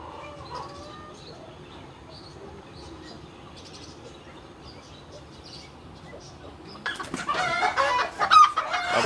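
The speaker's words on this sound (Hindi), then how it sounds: "ये रिवीज फिजेंट का पेयर है" A pair of Reeves's pheasants at a fancy bird farm calls with scattered clucks and faint calls, then a loud, close burst of harsh crowing-like cries over the last two seconds.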